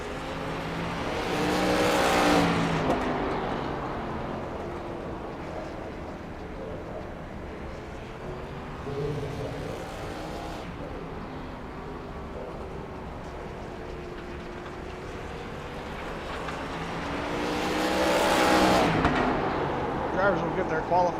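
Race cars in an SRX event roar past in loud swelling sweeps, near and fast, rising and falling over a constant trackside din while someone talks throughout.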